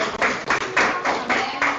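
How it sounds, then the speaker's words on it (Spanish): Church congregation clapping together in rhythmic bursts, a steady cadence of loud hand claps pulsing about every quarter second across the room. "¿Por qué no le damos un aplauso al Señor?"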